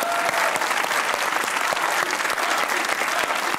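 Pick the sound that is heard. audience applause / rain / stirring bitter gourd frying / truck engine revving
audience applause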